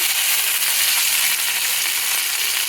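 Green chillies and curry leaves frying in hot oil with mustard seeds and cumin over low heat, a steady close-up hiss and crackle that stays even throughout with no talk.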